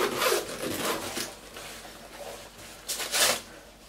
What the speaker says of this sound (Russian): Вскрываем замки.